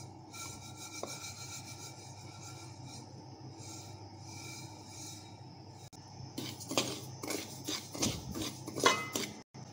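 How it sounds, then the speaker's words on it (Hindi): Yellow mustard seed, dal, ajwain and kalonji are dry-roasted in a hot kadhai, with a faint steady rustle and scrape, then a run of quick stirring scrapes and light clatter near the end. "तो अब इसी गर्म कढ़ाई में ही थोड़ा सा हम पीली राई दाल और अजवाइन ये भी सेक लेते हैं, और कलौंजी ये भी सेक लेते हैं।"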